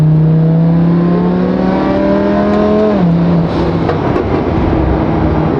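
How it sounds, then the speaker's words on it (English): Twin turbo Lamborghini Huracan with a suspected small piece of catalytic converter material loose, its engine droning steadily with a rising whir that dips near the midpoint, loud and close with no talking. "you can still kind of hear the whirring noise from the turbos"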